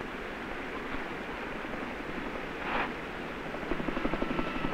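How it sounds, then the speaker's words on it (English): A steady roar of helicopter rotor noise over a wildfire zone drones throughout, with a faint rhythmic chopping emerging toward the end. "There's the helicopter."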